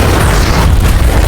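A deep, rumbling boom of an explosion, loud and close, filling the short moment with low roar.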